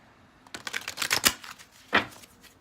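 Tarot cards are shuffled and pulled close by: a quick flurry of riffling, slapping bursts, then a pause and one more sharp snap of cards.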